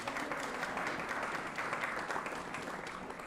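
An audience applauding at a policy organization's evening event, a sustained wash of many hands clapping at moderate distance, steady and slowly tapering toward the end.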